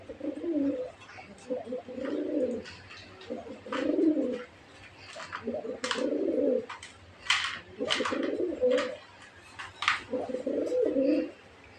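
Red Raj Golla pigeons coo in a steady run of low, throaty phrases repeated every second or two, close and clear, with faint higher chirps between them and no talking.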